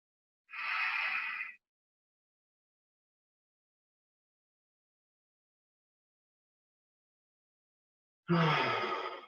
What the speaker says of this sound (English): All we're doing right now is breathing.